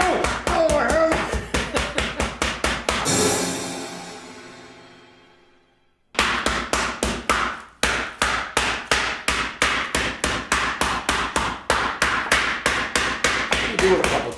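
Food is pounded with a mallet during home cooking: loud, close, sharp blows land in a fast, steady rhythm, break off for a few seconds with a fading ring, then resume just as evenly.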